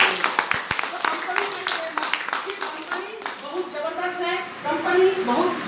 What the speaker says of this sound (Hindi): एक बड़ी शानदार कंपनी के लिए जोरदार ताली।